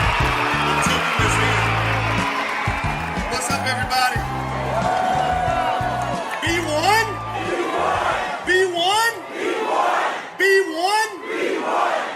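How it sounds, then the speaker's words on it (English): A rally audience for reparations welcomes Dr. Boyce Watkins with loud cheering, whoops and shouted voices over crowd noise, building into a raucous, sustained roar with applause underneath. "give a nice warm round of applause to my good brother, Dr. Boyce Watkins"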